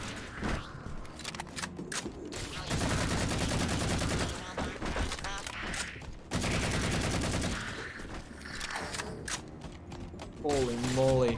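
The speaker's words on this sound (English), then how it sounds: "Now that is an assault rifle sound." Sustained automatic assault rifle fire in Halo: The Master Chief Collection comes as long, rapid, evenly pulsing bursts with short pauses between them, loud and close, while a voice talks over parts of it.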